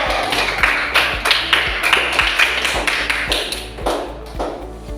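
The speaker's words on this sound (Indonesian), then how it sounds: "Tepuk tangan buat kita semua." Students in a classroom clap their hands in a fairly regular series of sharp, close claps, a steady patter of distinct hits lasting several seconds without speech.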